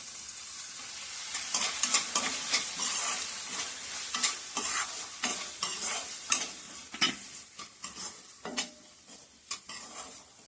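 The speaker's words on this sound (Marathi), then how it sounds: "तर आपण ही अशी ढवळून घ्यायची" Radish vegetable and dal being stirred in a pan, a steady sizzle with repeated scraping strokes of a spoon against the pan, close and fairly loud, no talk.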